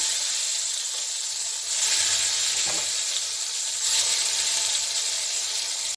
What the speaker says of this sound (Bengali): বেগুনগুলোকে আমি হাই হিটে ভাজছি।